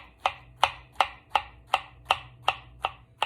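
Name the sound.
chopping scooped-out squash flesh for filling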